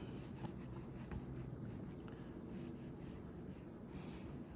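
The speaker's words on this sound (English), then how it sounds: "now we're going to bring in some more features following Andrew Loomis's method of working in these layers of sketches." A pencil sketches on paper in steady, close, continuous scratchy strokes, quiet and uninterrupted, with no one talking.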